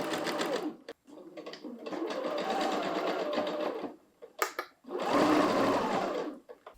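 Sewing machine stitching along the rounded edge of a tea towel, running in three bursts of steady whirring with short pauses between, near and fairly quiet.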